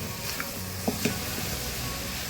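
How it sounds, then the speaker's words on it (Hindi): Vegetables for a veg lasagna sauté in a pan with a steady, close sizzle, broken by a few soft scrapes and taps of stirring. "हमारे वेजिटेबल्स सॉटे हो रहे हैं।"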